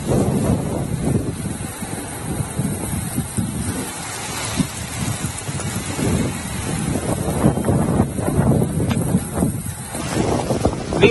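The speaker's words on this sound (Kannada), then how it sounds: "ಮಡಿಕೇರಿಯಲ್ಲಿ ನೋಡಿ ಅದೃಷ್ಟವಶಾತ್ ಧಾರಾಕಾರ ಮಳೆ ಸುರಿಯುತ್ತಾ ಇದೆ" Heavy monsoon rain pours steadily with gusting wind in Madikeri, a dense, continuous wash of noise at close range with rumbling low-end buffeting from wind against the microphone, no voices.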